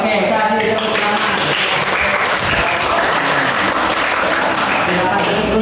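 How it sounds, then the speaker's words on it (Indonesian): An audience in a classroom presentation setting claps steadily and loudly, a dense continuous wash of applause that fills the whole moment without pause. "Oke, kasih tepuk tangan."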